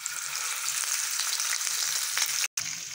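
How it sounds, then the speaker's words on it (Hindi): Fish pieces sizzle in hot oil in a pan, a dense, loud, continuous crackling fry heard up close, with a brief sudden dropout near the end and no speech. "जी, तो आप लोग देख सकते हैं ये फ्राई हो रहा है।"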